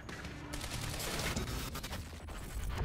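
Dense, sustained automatic gunfire from the shooter game Quantum Break rattles on without a break, a continuous barrage with a few heavier hits near the end.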